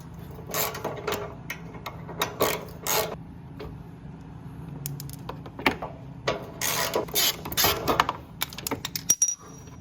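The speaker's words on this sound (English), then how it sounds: "now I'll go ahead and take that bolt off" A tool loosens and removes a bolt from the fender of a 2015–2017 Hyundai Sonata, giving close metallic ratcheting clicks and rattles in irregular bursts.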